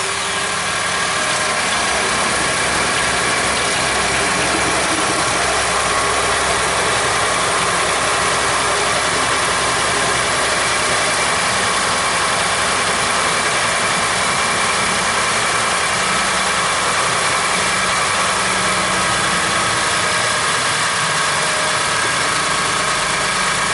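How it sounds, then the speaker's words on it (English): 2011 Ford F-150 engine running at a steady idle, a loud, constant broadband hum and vibration that holds unchanged for the whole stretch without talking. "Go ahead and start it up."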